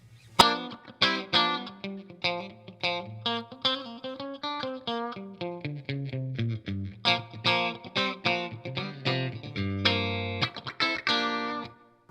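Clean electric guitar playing from an Eastman Fullertone in the second pickup position, with a melodic line of picked notes and chords ringing steadily and close for about twelve seconds, no talk over it.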